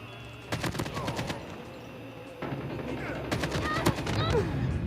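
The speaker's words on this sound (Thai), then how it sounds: "โอ้ปืนพกเขายิงแม่นจริงครับสองนัดแตก" Pistol gunfire in the mobile shooter game Call of Duty Mobile, with two quick clusters of sharp shots cracking out in rapid succession over faint game ambience.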